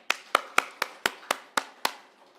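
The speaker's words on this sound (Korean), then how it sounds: "박수 한번 쳐주세요." Eight sharp, evenly spaced claps ring out in quick succession in a church service, crisp and close, with no voices.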